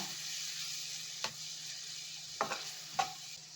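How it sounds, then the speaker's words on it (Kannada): Masala frying in a pan after a splash of water, a steady soft sizzle running throughout with a few brief stirring scrapes and clinks of a spoon against the pan. "ಕಾಲು ಗ್ಲಾಸಷ್ಟು ನೀರು ಹಾಕ್ಬೇಕು ಸ್ವಲ್ಪ ಮಸಾಲೆ ಎಲ್ಲ ಚೆನ್ನಾಗಿ ಫ್ರೈ ಆಗಲಿ"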